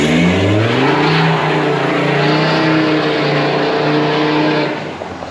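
A Ford Ranger 3.2L with a 4-inch exhaust drives past, a loud, deep droning engine roar that holds steady for several seconds and then fades slightly toward the end.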